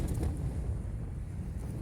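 A storm gust buffets a wild camp at Blea Tarn during Storm Ashley, a steady heavy low roar of wind battering the microphone and tent without letup.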